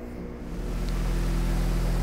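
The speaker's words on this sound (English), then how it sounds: "Sorry about the noise, guys. We got the tumbler going right now." A steady mechanical rumble and whir from a tumbler machine running in a heat-treating workshop, low and continuous, building slightly in the first half-second then holding constant.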